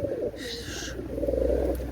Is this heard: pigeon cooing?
yes